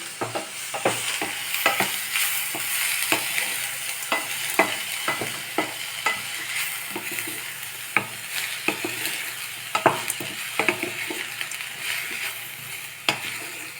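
Leftover batter ingredients sauté in a hot pan for paniyaram, sizzling steadily while a utensil scrapes and stirs in repeated sharp strokes, close and fairly loud.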